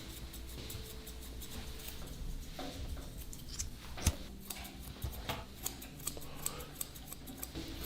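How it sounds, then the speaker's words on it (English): Scissors snipping through a dog's hair during grooming, soft irregular clicks and snips scattered over a quiet background hum, a few sharper cuts standing out near the middle. "Should we have the sound of the scissors?"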